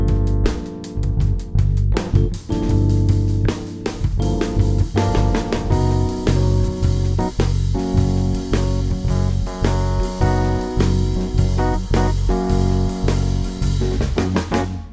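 Drum kit groove that shifts by metric modulation from a straight sixteenth-note feel into a triplet shuffle, the hi-hat ticking steadily throughout over punchy kick and snare hits, loud and continuous with no talking.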